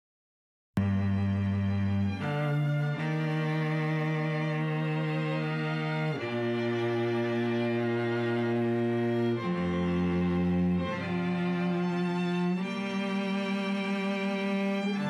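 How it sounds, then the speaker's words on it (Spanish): A cello in a string quartet session, captured on individual close microphones, plays a slow melodic line of sustained, resonant bowed notes that change pitch every couple of seconds, rich and continuous with no talking. "Y vamos a escuchar ahora el cello."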